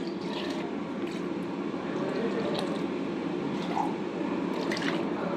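Water poured into a pan while cooking a potato masala curry, a continuous splashing, trickling liquid stream heard up close with no talk.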